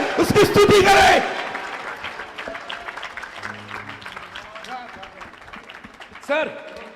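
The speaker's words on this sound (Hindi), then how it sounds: "कोई जोर से बोले, ताली बजाए, उसकी स्तुति करे।" A church congregation at a sermon meeting breaks into a short, loud burst of clapping and praise, which fades quickly as a preacher's voice carries on, with a brief lift of sound near the end.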